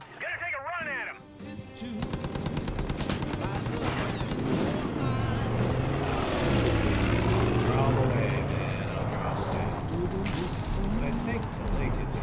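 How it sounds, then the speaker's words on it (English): Enemy airplane roaring overhead in Far Cry 5, a loud sustained engine drone mixed with gunfire bursts and a voice talking over the action throughout. "My puppy dog cannot help me take out that airplane."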